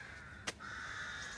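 A crow caws loudly and continuously near a railway viaduct, a single harsh drawn-out call with no other sound over it.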